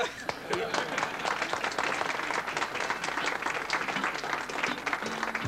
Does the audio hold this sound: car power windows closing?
no